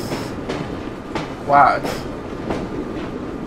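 A train rolling in Assassin's Creed Syndicate, with a steady rumble and a rhythmic clickety-clack of wheels on rails. A person talks over it and a brief louder burst comes in the middle.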